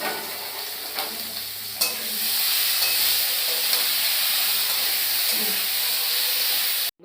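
Sugar, tomato and green chili hitting a hot pan and sizzling, starting with a few faint clinks, then a steady loud frying hiss that holds throughout and cuts off abruptly at the end.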